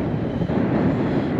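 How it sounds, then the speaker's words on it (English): Strong wind gusts roar steadily across a sheltered bay off Sal Island in Cape Verde, heard as a continuous close rumble of buffeting against the microphone with no talk. "pretty windy inside this bay."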